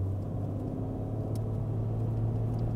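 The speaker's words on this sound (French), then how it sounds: "c'est un bruit de 6 cylindres, mais il est très beau." A 1995 Mercedes C36 AMG with a six-cylinder engine hums steadily while driving, a smooth low drone heard from inside the cabin at moderate level with no talking.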